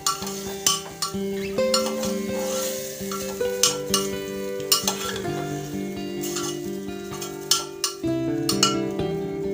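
Mutton biryani with coriander is stirred in a pot with a metal spoon, giving close clinks and scrapes against the vessel over a soft sizzle, in irregular strokes with no talking.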